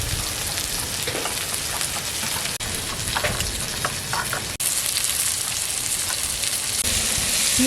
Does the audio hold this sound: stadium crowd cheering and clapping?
no